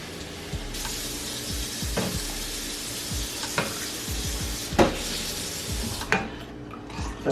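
Onion gravy for cube steak sizzles and bubbles steadily in a pan, with a spoon stirring and scraping against the metal, plus a few louder clanks of utensil on pan near the end.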